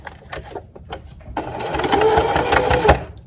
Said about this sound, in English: I'll do my back stitch around that area